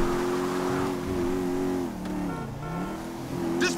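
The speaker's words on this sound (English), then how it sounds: "That's a monster fucking bike you riding" In the video game GTA 5 a large, powerful motorbike engine drones and revs, its pitch rising, dipping and climbing again at close range, with no speech.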